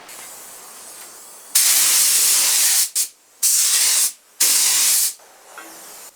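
Three loud, close bursts of spray paint hiss as a hammered-finish top coat goes onto a restored vintage woodworking machine, separated by short pauses.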